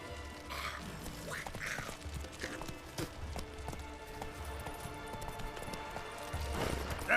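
Roach, a horse in The Witcher 3 game, gallops with steady clip-clop hoofbeats over ambient game sounds, with a brief whinny-like burst near the end.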